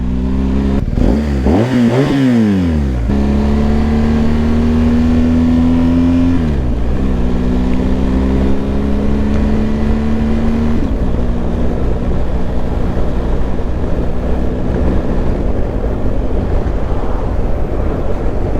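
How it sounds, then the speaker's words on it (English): A BMW R1250GS motorcycle engine revs up and down a few times, then holds a steady loud growl as it pulls along, close and continuous. "already there's a greater grunt in the engine. You can just hear it."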